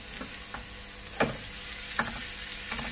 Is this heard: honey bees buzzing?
no